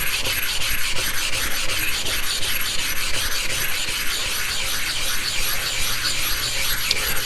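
A knife blade is sharpened on a Suehiro Debado 1k whetstone. Loud, close, continuous gritty rasping strokes run without pause, with no voices.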